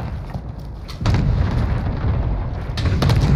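A frag grenade blows up in a Rebirth Island video game match, landing as a loud, close boom that rumbles on for a couple of seconds over game ambience.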